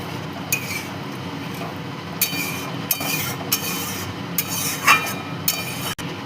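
A spoon scrapes and clinks around a pot of lentil fritter curry with added water, a few intermittent metallic knocks and rubs over a steady background hum.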